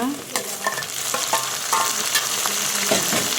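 Tomatoes sautéing in oil for a fish curry, a continuous soft sizzle broken by repeated scraping and stirring strokes of a spoon against the pan, close and without talking.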